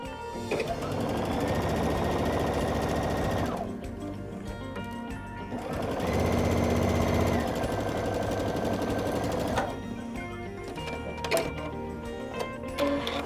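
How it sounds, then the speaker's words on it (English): A sewing machine stitches across a line on a Halloween fabric pillow in three long, loud, steady runs of rapid ticking, separated by brief pauses with light handling noises, close up and with no voices. "we will finish sewing across that line"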